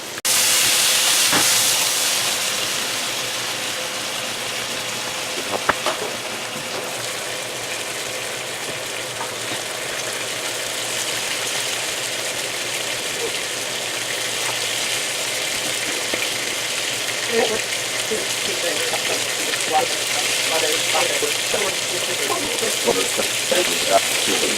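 Burgers and sweet potato fries sizzle in a pan, a steady broad hiss that starts loud and settles into a continuous frying crackle, close and alone.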